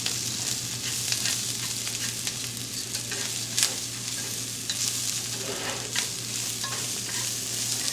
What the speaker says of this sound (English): I've been just tossing and sauteing the rice and the vegetables